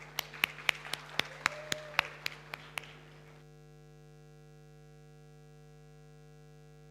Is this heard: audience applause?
yes